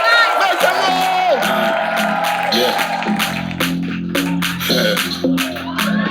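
A live audience cheers, whoops and shouts for a Nigerian rapper at a show, a loud, dense crowd roar with bursts of rhythmic clapping and yelling throughout.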